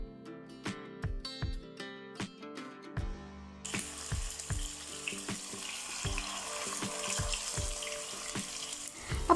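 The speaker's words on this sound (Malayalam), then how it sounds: "ഇനി നമ്മൾ ചിക്കൻ്റെ ഓരോ പീസുകളും ഇതിലേക്ക് വെച്ച് കൊടുക്കാം." Chicken pieces are laid into shallow sunflower oil in a pan, with a series of rhythmic knocks and clicks followed by a close, steady sizzle of frying that continues to the end.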